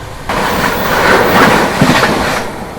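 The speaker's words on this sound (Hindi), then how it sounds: "यहाँ पर अपनी ट्रेन जो है भरवारी स्किप कर रही है" The Shiv Ganga Superfast Express rushes past Bharwari station without stopping, a loud close roar of wheels and rattling coaches that swells suddenly, peaks with a few heavy clunks, then eases slightly.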